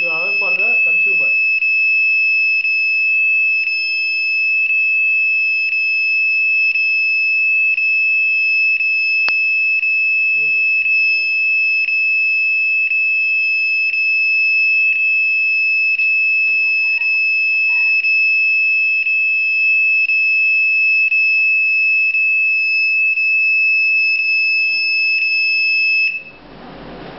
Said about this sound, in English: Now amount is below 30 rupees, at the time, continuous alarm.